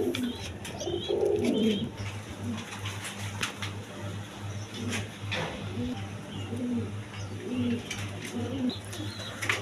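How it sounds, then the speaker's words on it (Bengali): Cooing from a pair of khaki pigeons with their chick rises loudest early on, then keeps going as softer repeated coos over a steady low hum and background chirps. "দর্শকবৃন্দ এখানে এক পেয়ার খাকি কবুতর আছে, দেখেন একটা বাচ্চা নিয়ে বসে রয়েছে"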